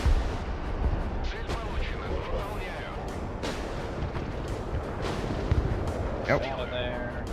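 Weapons launching in the video game Broken Arrow, HARM missiles fired at a radar unit, come through as repeated booming blasts and rumbling bursts over a dense battle din, with voices talking throughout.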